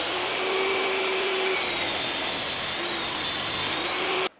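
A track saw cuts a dado through nominal plywood in a shop cabinet build, a loud steady motor whine under load that holds for about four seconds and then stops abruptly, with no talking.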